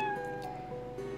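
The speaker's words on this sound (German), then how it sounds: "also hör auf so zu mauzen" A cat meows in the video game Ghost Towns, a single drawn-out, fairly faint meow over a low background hum.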